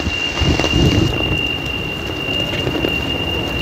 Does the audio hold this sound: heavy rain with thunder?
yes